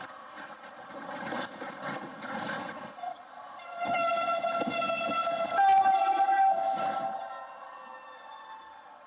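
A Pune metro train starting its first inaugural service sounds a sustained horn with tonal rail hum that swells midway, heard from moderate distance.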